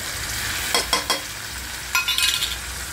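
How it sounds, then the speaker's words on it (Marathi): Onion frying in oil in a pot gives a steady soft sizzle, broken by a few sharp clinks and scrapes of stirring with a utensil, with no talking. "कांदा पूर्ण लाल होईपर्यंत भाजायचा"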